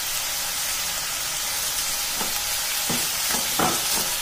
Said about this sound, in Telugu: ఈ టొమాటోస్ అన్ని బాగా మెత్తబడాలండి, అంతవరకు ఫ్రై చేసుకోవాలి.